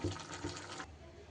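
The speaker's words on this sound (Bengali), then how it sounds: "এবার আমি এঁচোড়ের জল ঝরিয়ে নেব।" Water from boiled jackfruit draining through a basket, a brief, soft rushing pour that lasts under a second and then stops abruptly, leaving a quiet room.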